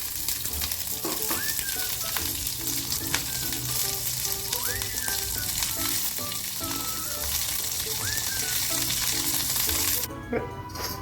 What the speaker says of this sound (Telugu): కాయలు బ్రౌన్ కలర్ వచ్చే వరకలా వేయించుకోవాలి